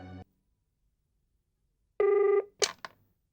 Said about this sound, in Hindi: उसी शाम मुझे तुम्हारा फोन आया।